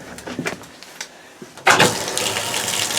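A motorhome toilet flushes pink antifreeze through the lines during winterizing: light clatter and rumble, then a sudden loud rush of water that keeps gushing steadily to the end.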